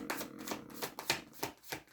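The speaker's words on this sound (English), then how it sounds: "allow myself to start shuffling" Tarot cards being shuffled by hand, a quiet series of brisk papery riffles and flutters in an uneven rhythm, close to the microphone, with no voice.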